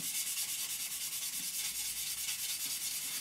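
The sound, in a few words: sanding a model surface with a sanding stick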